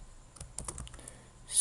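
Light, quick keystrokes on a computer keyboard as code is typed, a short close-up run of soft clicks with no talking.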